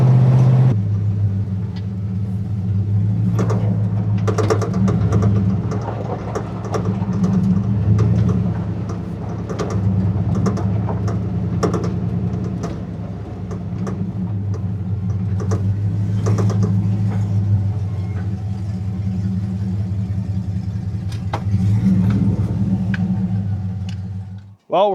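An LS-swapped 1971 Chevrolet C10 pickup engine runs with a deep, steady rumbling drone up close, rising and easing slightly as it drives, with clicks and knocks over it and someone speaking throughout.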